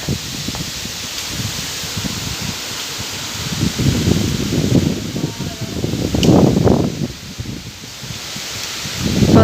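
Strong storm wind gusts sweep through bamboo leaves, producing a steady rustling that swells and fades in waves, with a few louder surges toward the end.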